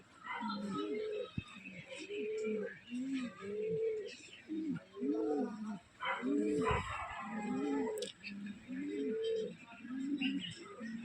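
Domestic pigeons kept at home coo in a steady run of low, rolling calls, close and distinct, with short pauses between phrases and a brief rustle or thump partway through.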